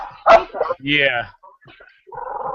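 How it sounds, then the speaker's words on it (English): A dog gives a couple of short barks and a whimpering yip over a call line, mixed with nearby male speech. "Well, I hear the dog and everything else too."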